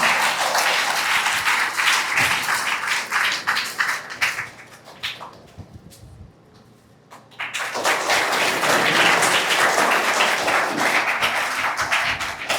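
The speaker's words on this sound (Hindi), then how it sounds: "जोरदार तालियां" Loud crowd applause at a high school farewell program, dense clapping that dips to quieter scattered claps midway before swelling back to a full, sustained ovation.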